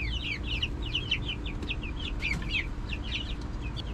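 A big tame backyard hen clucking repeatedly in short chirpy bursts close by, over a steady low rumble of outdoor background noise.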